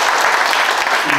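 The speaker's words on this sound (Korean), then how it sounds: "좋은 말씀 해주신 회장님께 다시 한번 큰 박수 부탁드리겠습니다" A crowd at a clan association gathering applauds, a dense, loud wash of clapping with no pauses, heard in a brief burst under faint voices.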